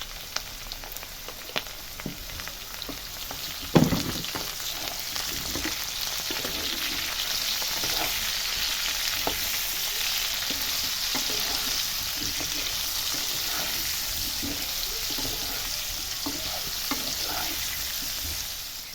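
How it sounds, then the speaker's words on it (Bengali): Potatoes and vegetables seasoned with salt and turmeric sizzle and fry in a pan, a steady close crackling hiss with occasional stirring scrapes and a brief louder clatter near the start, no voices. "সবজিগুলো ভাজা হয়ে গেছে"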